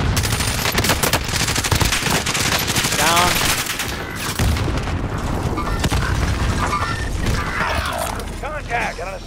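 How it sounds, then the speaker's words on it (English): Rapid automatic gunfire and scattered shots in a multiplayer shooter game, dense and loud throughout with booms mixed in, while a player speaks briefly over the din. "I'm getting shot from right."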